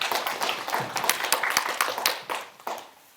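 Audience applause greets a student speaker at an education forum, a dense wash of many hands clapping at moderate level that thins and fades toward the end.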